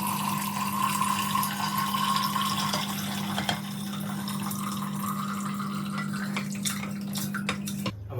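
Braising liquid with its cooked contents poured from a pan into a blender, a steady wet splashing pour with occasional clinks of a pot, ending in a sharp knock, close and without speech.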